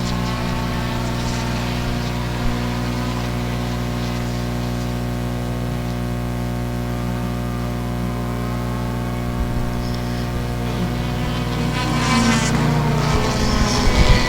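Bomber race cars roaring around a dirt track at a Swansboro back-to-school race, a dense steady engine drone that swells louder near the end.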